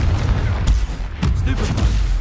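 Spell blasts boom in Hogwarts Legacy combat, several loud percussive explosions in quick succession over a dense rumbling game soundscape.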